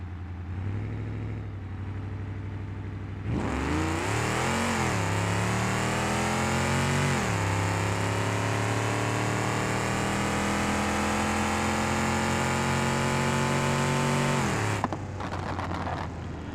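Simulated car in BeamNG.drive launching down a drag strip after a burnout: engine idles at first, then revs hard and climbs loudly through gear changes under sustained acceleration before backing off, with no talk over it.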